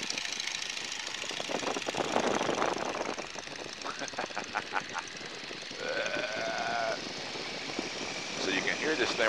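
A small aerobatic airplane's engine drones steadily and loudly in flight at around 125 miles per hour, with a buzzing, slightly fluctuating tone under cockpit talk.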